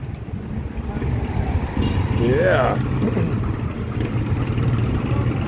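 Street traffic rumbles with idling trucks and engines nearby, a continuous low drone with a brief rising honk or squeal in the middle and a short spoken word over it.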